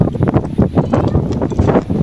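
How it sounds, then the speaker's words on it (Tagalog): Strong wind buffets the microphone on a mountain summit in loud, continuous gusts with low rumbling bursts throughout, and no voices. "sobrang lakas ng hangin ngayon"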